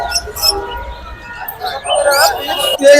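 Small birds chirp and tweet in quick bursts at the Tongi bird market in Bangladesh, with overlapping high calls and some talking and clatter nearby.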